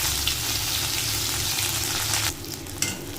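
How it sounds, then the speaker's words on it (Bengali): Ginger paste stir-fried in hot oil with spluttering five-spice seeds and dried red chilli, a loud, dense sizzle that drops off sharply partway through, followed by a few clinks of the spatula, with no voices. "আদা বাটাটা দিয়ে খুব ভালো করে নাড়িয়ে চাড়িয়ে কষিয়ে নেব আদার কাঁচা গন্ধটা চলে যাওয়া অবধি"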